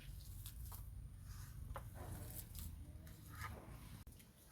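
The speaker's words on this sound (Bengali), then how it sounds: "এখন আমি সব একসাথে চটকে মেখে নেব।" Raw jackfruit mixture mashed and kneaded by hand without added water, giving faint wet squelching pulses over a steady low hum, close and quiet.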